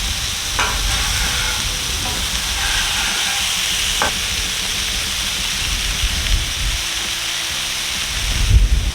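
Smash burgers and onions sizzle on a flat griddle in a steady, dense hiss that runs throughout, with a few brief scrapes and clicks of a spatula and a louder bump at the end.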